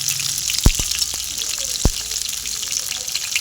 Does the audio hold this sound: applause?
no